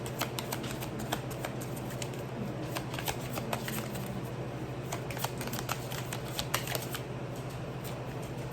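Tarot cards are shuffled and drawn in a continuous quiet riffle of fast papery flicks, close and soft, over a faint steady hum, with no talking.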